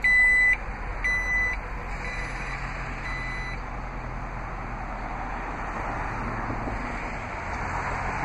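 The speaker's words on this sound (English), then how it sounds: "to close the lift gate, just press the lift gate button on the trim panel" Power liftgate on a 2011 Jeep Grand Cherokee Overland 4x4 closing, with a few sharp electronic warning beeps near the start over a steady low motor whir and faint background noise.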